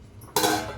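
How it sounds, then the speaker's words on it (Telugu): Metal lid set onto a cooking pot of tomato curry, one sudden close clank at the start that rings briefly and fades over half a second. "మూత పెట్టుకుందాము."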